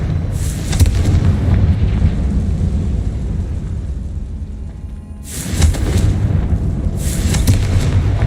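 Booming blasts from a Confringo spell in Hogwarts Legacy, a loud rumble near the start and two sharp bursts near the end, each with a bright crackling crack over a steady low rumble.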